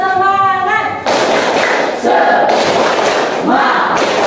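A class of ninth-grade students stands for a rhythmic spirit clap during a school guidance lesson, with loud, patterned bursts of clapping and shouted voices joining in over a few seconds.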